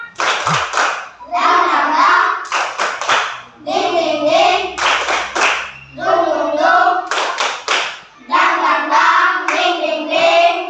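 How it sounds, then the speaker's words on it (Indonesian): Students and a teacher do a rhythmic spirit clap in class, repeated sets of sharp synchronized claps alternating with group chanting, several cycles, close and loud. "Semangat, ya. Tepuk semangat."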